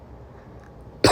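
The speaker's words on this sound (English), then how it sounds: "She coughs into her pillow and settles herself to sleep." After a near-silent pause, a girl lets out a single loud, muffled cough into her pillow, close up at the very end.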